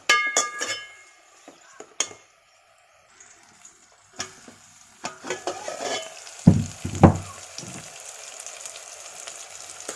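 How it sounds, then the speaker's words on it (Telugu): Ginger garlic paste frying in a hot pan while being stirred, with a soft steady sizzle and scattered scrapes and clinks of the spoon, a couple of louder knocks near the end, no voices. "ఒకసారి కలిపేసుకొని అల్లం వెల్లుల్లి పేస్ట్ పచ్చి వాసన పోయే వరకు కుక్ చేసుకోవాలండి"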